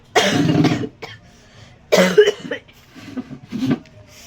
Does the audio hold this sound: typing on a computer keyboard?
no